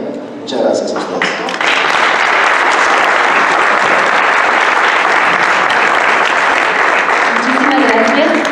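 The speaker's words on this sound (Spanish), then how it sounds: "Ese es el aplauso también para la presentación del libro Sonorenses en Armas del autor René Córdoba" An audience applauds loudly after a book presentation for Sonorenses en Armas. A brief murmur comes first, then sustained, dense clapping fills the room for most of the stretch.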